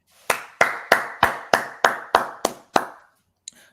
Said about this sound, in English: Jock Brothers round of applause